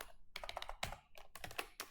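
Quick bursts of computer keyboard typing while entering a C matrix multiplication program, the clacking keystrokes coming in short clustered runs with brief pauses, close and fairly quiet.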